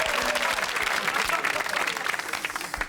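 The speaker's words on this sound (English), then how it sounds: "A round of applause for Switzerland's many borders" A television studio audience claps steadily and enthusiastically, a dense wash of applause filling the room throughout.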